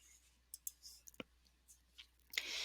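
A computer mouse clicks quietly several times in a near-silent room, a handful of sharp, brief taps spread irregularly over a couple of seconds.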